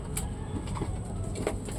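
A pigeon being trained coos softly, with a few low, brief coos close by over a background of outdoor noise and distant traffic.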